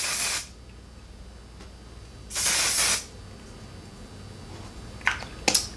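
Hairspray hisses from an aerosol can in two bursts, a short one then a longer spray about two seconds later, close and clear, followed by a few faint clicks and rustles.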